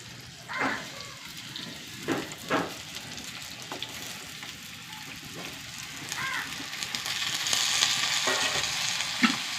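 Eggplant sizzles and crackles as it fries in a pan, a steady hiss that grows slightly louder, broken by a few clinks and stirring scrapes while people talk nearby.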